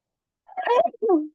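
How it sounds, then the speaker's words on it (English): A single sneeze, a sharp breathy burst followed by a short voiced tail, close to the listener with no talking around it. "Hold on, I need to sneeze."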